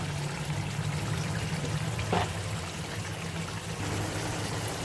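Ghee is poured into a cooking pan during a home recipe, producing a soft, continuous trickling hiss with one brief brighter splash in the middle, heard close without talk.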